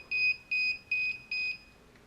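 A DJI Phantom 4 remote controller under battery repair gives four evenly spaced, steady electronic beeps, each about a fifth of a second long, moderately loud and close, with a quiet background and no talking.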